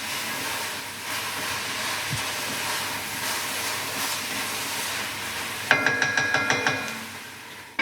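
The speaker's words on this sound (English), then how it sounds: "Sizzling away," Soup vegetables sizzle and sweat down in a pot on the hob, a steady soft frying crackle throughout, with a few brighter metallic clinks near the end.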